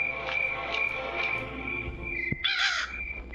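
In the Granny Chapter 3 video game, a crow caws several times in a row, loud and close over a faint steady hum, ending in a harsher squawk.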